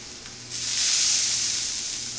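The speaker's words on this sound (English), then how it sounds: "Oh, listen to that sizzle." Chicken birria tacos dipped in cooking oil sizzle in a hot pan, a steady hiss that swells after a brief quieter start and stays loud and close.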